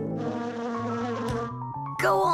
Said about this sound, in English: Here, little bee.